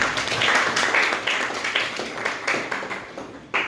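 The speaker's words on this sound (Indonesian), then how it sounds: "Tepuk tangan buat Malah." An audience at a computational thinking and digital literacy class gives a sustained round of applause. The clapping is dense and steady, then thins out near the end.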